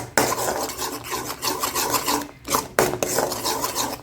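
Peanuts are tipped into hot jaggery syrup for kadalai mittai and scraped around a pan, giving a loud, close, gritty rasp of rapid stirring strokes with brief pauses, no voices.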